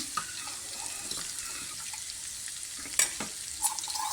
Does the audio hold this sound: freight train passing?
no